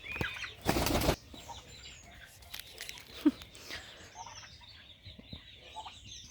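Big-6 turkeys flapping their wings and taking off in a poultry house, one loud close burst of wingbeats followed by scattered clucks, rustles and faint bird calls.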